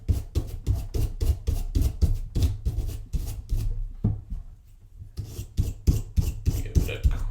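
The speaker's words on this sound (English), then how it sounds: "Give it a quick scrub with a semi-soft wire brush." Rapid rasping strokes of a semi-soft wire brush scrubbing a Ruger Mark IV pistol, close and loud in a steady rhythm, pausing briefly midway before the brisk scrubbing resumes.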